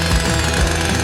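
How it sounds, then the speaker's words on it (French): A chainsaw used in a kitchen cooking challenge roars loud and continuous at close range, a dense, steady mechanical buzz with low rumbling pulses and no voices. "La tronçonneuse va sûrement faire l'affaire."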